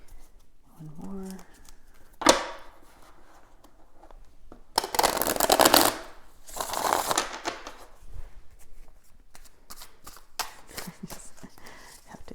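Tarot deck shuffled by hand in a couple of close papery riffles with small taps and handling noises between them, a sharp snap near the start; fairly quiet room.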